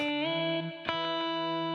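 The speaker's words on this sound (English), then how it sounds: "we're getting a little ping pong kind of sparkle with that guitar" Electric guitar sustaining bright chords drenched in ping-pong delay and Valhalla reverb, with a single picked accent whose repeats bounce back and forth before the tone rings on, in a chill lo-fi track.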